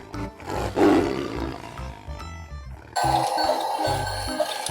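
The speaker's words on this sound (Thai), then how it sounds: "สีส้มมาเลยนะครับเรียกว่าเจ้า tiger tiger" Tiger roaring in a deep, rough burst near the start, followed by further growling and a sudden louder stretch of animal noise with background sound effects.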